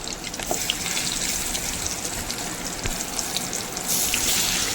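Steady hissing sizzle of tuna pieces frying in hot oil, constant and close, with a few crackles popping through.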